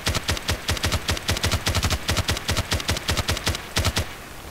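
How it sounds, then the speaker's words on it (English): Short bursts of MG36 machine-gun fire in Battlefield Play4Free, loud, close and evenly spaced, cracking out in quick taps one after another with no talk. "I'm gonna do tap firing now and see if you can tell what it looks like"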